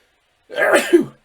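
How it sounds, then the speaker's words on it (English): A single sharp sneeze, close and fairly loud, bursting out after a moment of silence. "I'm about to sneeze."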